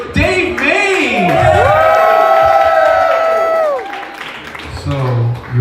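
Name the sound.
applause and cheering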